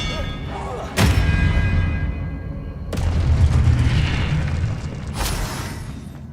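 Expelliarmus spells cast in Hogwarts Legacy, three sharp booming blasts spaced a couple of seconds apart, each one trailing a rumbling wash over the low game ambience.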